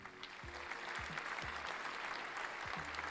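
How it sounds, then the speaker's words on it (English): Recorded applause sound effect played during a live stream: steady, dense clapping from a crowd, loud and continuous for the whole stretch, with no talking over it. "Let's get an applause going."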